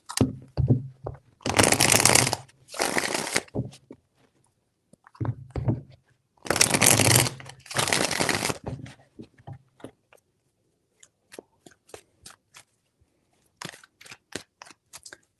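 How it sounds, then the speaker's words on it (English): Tarot cards shuffled in three separate bursts, each a crisp riffling rustle lasting about a second, with lighter taps and card flicks between and after, close and fairly loud with no talking. "Three shuffles."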